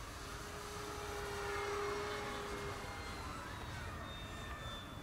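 An E-flite P-51D Mustang 1.5m RC model airplane buzzes overhead at a flying field, a faint steady engine whine with a gentle swell as it passes at a distance.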